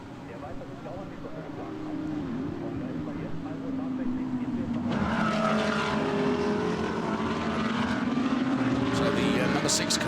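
GT Masters race cars at Oschersleben, among them a Mercedes-Benz, roaring past with rising and falling engine notes that build louder midway, under continuous commentary.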